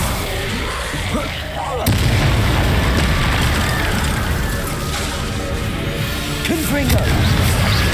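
A Confringo blasting spell in Hogwarts Legacy sets off loud booming explosions, one sharp burst followed by a sustained rumbling roar and a later blast, dense and close.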